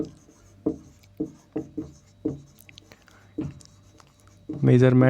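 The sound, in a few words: writing on a board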